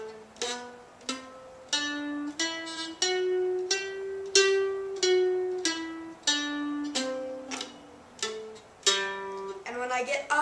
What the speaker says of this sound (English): Now we're going to run that forwards and backwards, and it's going to sound like this.